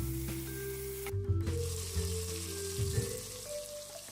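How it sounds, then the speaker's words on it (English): Onions and tomatoes frying in oil in a pot for Kenyan-style collard greens, a quiet soft sizzle with a few clanks of stirring, no voices. "So now you see they've been frying for a little while"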